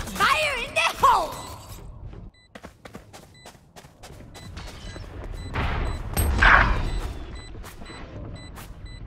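Valorant game audio: a shouted voice line, then a rapid string of sharp gunshots and a deeper, booming grenade blast a few seconds later. Game voices call out over the action.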